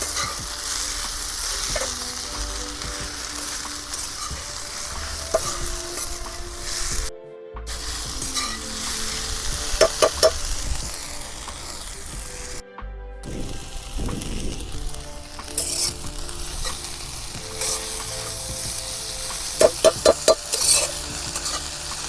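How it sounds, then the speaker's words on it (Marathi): Chopped wild forest greens sizzle in a hot pan while being stirred, with a continuous fry noise punctuated by metallic clinks and scraping strokes of a spatula, close up and without speech. "भाजी पण चांगली परतून घ्यायची"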